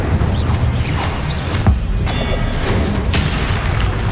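Fiery Confringo spell blasts from the Hogwarts Legacy video game: a dense, steady rumble of booming explosion noise with a sharper burst in the middle, loud and continuous with no talk.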